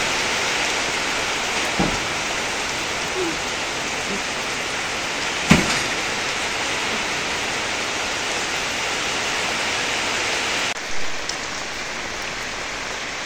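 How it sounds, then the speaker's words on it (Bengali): Heavy rain pours down in a dense, steady hiss throughout, with a few faint knocks and no voices. "আল্লাহর অশেষ রহমতে এমন বৃষ্টি দিছে যা খেতে একদম পানিতে ভরপুর হয়ে গেল"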